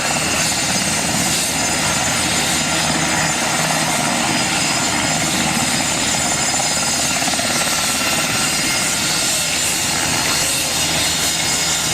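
A helicopter at an air show roars loudly and continuously nearby after landing, engine whine and rotor thrum holding steady throughout without any talking.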